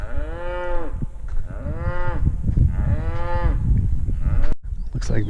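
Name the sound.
cow mooing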